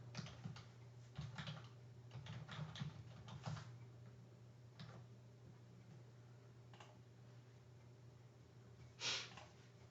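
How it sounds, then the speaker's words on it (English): Typing on a computer keyboard, quiet irregular bursts of key clicks close by, busier early and thinning out later, with a soft sniff or breath near the end and no speech. "I'm typing it up."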